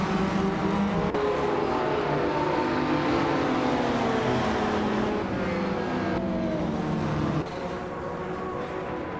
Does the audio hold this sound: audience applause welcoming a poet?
no